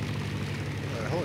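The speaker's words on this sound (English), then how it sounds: "A helicopter flying below me." A steady low engine drone of a helicopter flying in the game DayZ hums throughout, with a voice talking faintly over it.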